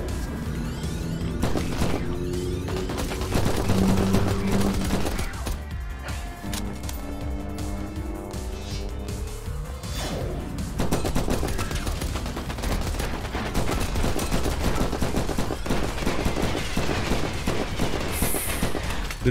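Sustained bursts of rapid gunfire from an overpowered weapon in the sci-fi game From Space, dense and loud nearly throughout, with sharp impacts and crashes layered over a busy game soundscape.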